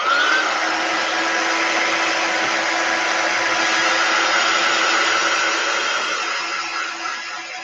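A handheld dryer blows in a constant, loud whir over a chalk paste craft project, holding steady for several seconds before easing slightly near the end, with no voices.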